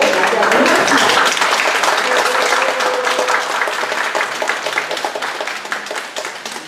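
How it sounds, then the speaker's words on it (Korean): Loud, dense applause fills a lecture hall as an audience welcomes a professor before a history talk. The clapping holds steady, then gradually thins and fades. "교수님을 뜨거운 박수로 맞이하도록 하겠습니다."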